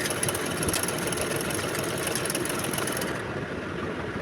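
A sewing machine runs steadily at a fast, long-stitch pace while sewing palazzo pants fabric, a continuous close whirring motor hum with no talking.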